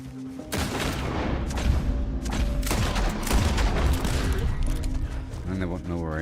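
Gunfire in the video game Red Dead Redemption 2: a dense, loud fusillade of shots and booms overlapping into a continuous barrage, with a voice speaking over the din.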